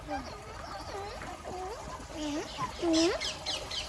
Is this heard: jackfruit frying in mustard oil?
no